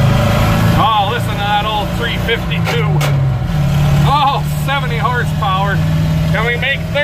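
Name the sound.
old truck's 352 V8 engine running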